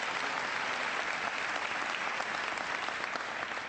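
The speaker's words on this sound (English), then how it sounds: "Give her a big round of applause." A large audience at a presidential town hall meeting in Nashua, New Hampshire, applauds continuously, an even, dense roar of clapping with no break.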